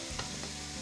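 Meat, tofu and vegetables sizzle in a frying pan as they are stirred together, a steady close hiss with a couple of brief scraping strokes.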